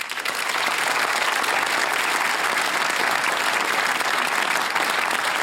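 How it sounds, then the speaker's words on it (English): A studio audience at a televised Q&A panel on depression breaks into loud, sustained applause, a dense, even roar of clapping held at constant level throughout. "Please give yourselves a huge round of applause."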